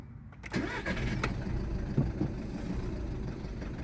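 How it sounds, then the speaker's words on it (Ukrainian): A 1.6 TDI diesel engine in a VW Golf 6 with a failed injector cranks and catches, then settles into an uneven, rough-running idle with a misfire, heard close up with no talking. "Заводимо і починає троїти."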